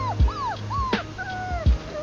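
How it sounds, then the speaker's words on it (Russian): Small dog whimpering near an outdoor campfire, giving several high, rising and falling whines mixed with soft low thumps, close by and fairly loud, with no speech. "ты что скулишь"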